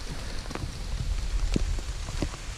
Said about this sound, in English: So it's coming down harder and harder. Rain, rain, rain, rain.